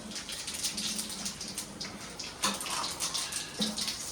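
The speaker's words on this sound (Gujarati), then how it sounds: "તેલ મૂકી દીધું છે મિત્રો. હવે નાખીશું જીરું" Cumin seeds sizzling in hot oil for a corn chevda, a steady close crackling hiss with small pops throughout, no talking.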